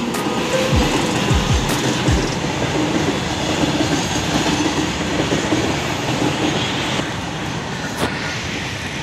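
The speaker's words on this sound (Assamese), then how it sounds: "মালটনা গাড়ী এখন আহিছে" A freight train rumbles past close by in Tihu town, with steady clattering, a few low squeals and clicks from the wheels over a loud, continuous roar.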